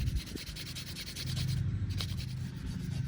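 A cheap Ozark Trail fixed-blade knife shaves thin curls from wood, making close, soft scraping strokes with a rough rasping texture over a low rumble, alone without talk.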